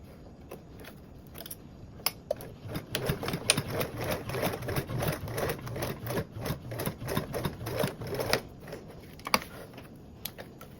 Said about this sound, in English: And then sewing with a 3/8 seam allowance.